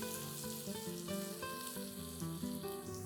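Onions sizzle and crackle steadily in oil in a pan, cooking for a chicken gravy, a soft, continuous frying hiss with faint music underneath and no talking.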